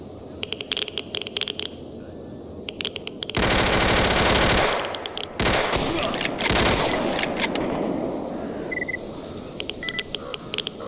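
Loud automatic gunfire rattles through a shooting exchange in the video game Stalker Anthology, with sustained bursts followed by a shorter volley and scattered clicks and game effects around them, close and dominant.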